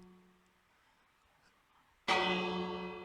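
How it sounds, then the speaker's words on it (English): A single loud clock tower bell in the video game Scarworld 2 strikes once after quiet ambience, its deep metallic tone ringing out and slowly decaying. "it's a clock tower with the bells and all. And it will dong 12 times."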